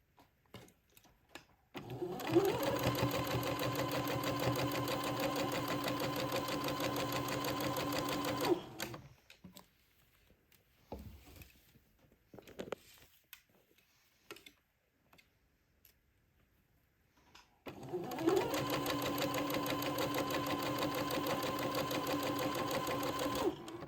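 A sewing machine stitches a lace band onto the hem of a day gown in two long, steady runs of rapid mechanical whirring, separated by a quiet pause filled with faint handling clicks.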